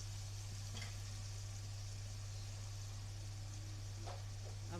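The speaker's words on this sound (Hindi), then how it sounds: "अपने मसाले को अच्छी तरह से हमने इसको भून लेना है।" Ground spices for tandoori chicken frying in a pan, a steady low sizzle running throughout with a couple of faint scraping stirs, under a constant background hum.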